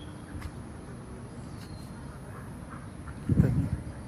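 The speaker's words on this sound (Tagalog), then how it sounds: "Ayun ang mga pato." Ducks let out a short burst of quacking near the end, over a quiet outdoor background with faint scattered bird calls.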